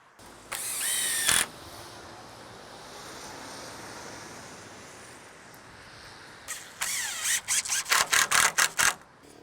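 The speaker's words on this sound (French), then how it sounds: "Je mets toujours 2 vis ou 2 clous systématiquement par planche." A power drill driving screws into wooden planks while a garden pool house is assembled, heard as one long whirring burst, a quiet pause, then a run of short, rapid bursts close by.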